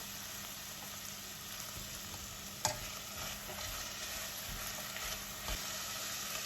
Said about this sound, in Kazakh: Үстіне болгар бұрышын салып, тағы да 5 минуттай араластырып отырып қуырамыз.